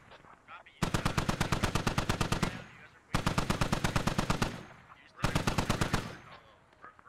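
A DShK heavy machine gun fires in a military video game, three long sustained bursts of rapid, evenly spaced shots, loud and close, separated by short pauses.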